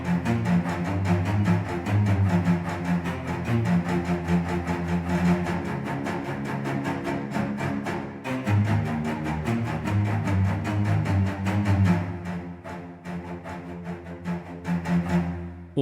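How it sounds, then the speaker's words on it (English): Cellos from the Audio Imperia sample library play a sustained, full cinematic passage alone, deep bowed tones swelling steadily with a brief dip midway and a softer close. "And then the cellos in comparison have this."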